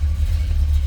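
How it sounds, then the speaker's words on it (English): A 1966 Chevrolet Impala wagon with a 396 big block V8 runs, giving a loud, deep, steady rumble heard alone for under a second. "Fires right up, good running car."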